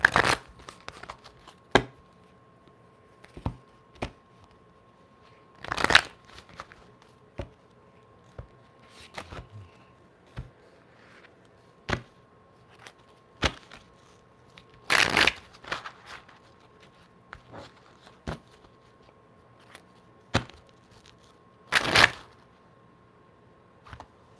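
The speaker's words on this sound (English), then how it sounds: "Let's get a little shuffle." Quiet, sporadic riffling and snapping of playing cards, with occasional louder bursts of a full shuffle spaced several seconds apart in a calm room.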